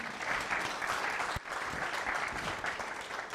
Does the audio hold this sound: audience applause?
yes